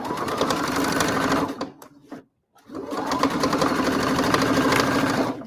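A sewing machine runs fast and steady while stitching the final seam of a denim corset, pausing briefly in the middle before resuming its dense, continuous whir until the end.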